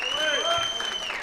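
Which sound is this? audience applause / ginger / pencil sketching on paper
audience applause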